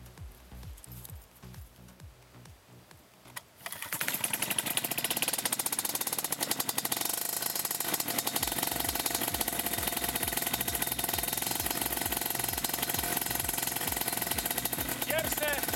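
An EC Extreme engine is started: a few quiet seconds with faint background, then the motor catches and runs loudly and steadily with a rough, rapid pulsing drone that continues to the end.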